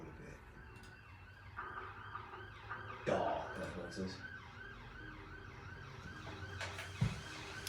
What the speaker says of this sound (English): Try and drown out the sirens.